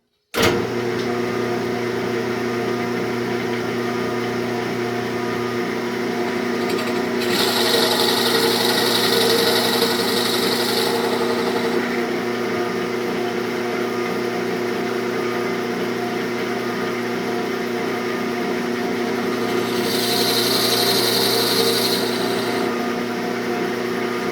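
A Forstner bit bores headlight holes into the wood body of a toy pickup truck, a steady whirring motor hum with two louder, brighter cutting passes, one early and one near the end.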